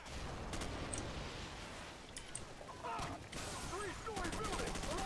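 Machine gun fire rattles in a video game mission, rapid bursts of gunshots and crackling fire in a busy battle scene, loud and continuous with scattered sharper reports.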